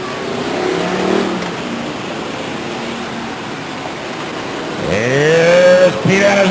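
A car engine at a speedway enduro race runs rough, apparently on only six or seven cylinders, a low uneven drone that swells into a louder revving pass near the end.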